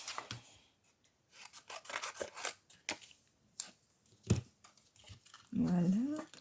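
Scissors snipping through paper to cut out an Easter bunny shape, a series of short crisp cuts and rustles close up, ending with a voice speaking.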